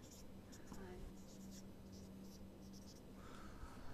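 Numbers are written by hand in faint scratchy pen strokes on paper, close by, with quiet murmured speech and a low background hum.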